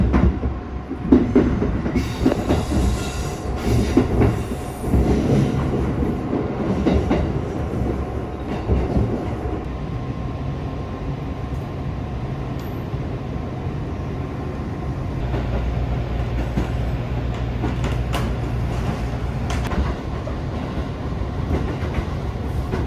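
Chuo Main Line local train running toward Nagano, a continuous loud rumble heard from inside the car with rail clatter and occasional squeal, the tone shifting partway through, no speech.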